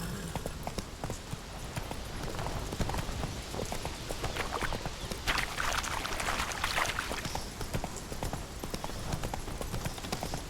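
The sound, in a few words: horse hooves clip-clopping while riding, from video game The Witcher 3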